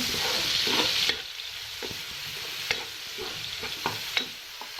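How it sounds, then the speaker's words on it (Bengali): Chopped onion and garlic fry in hot oil in a pan, a loud, bright sizzle that drops slightly after a second, with scattered stirring scrapes and taps throughout, no talk. "এখন আমি সুন্দর করে পেঁয়াজটাকে ভেজে নেব।"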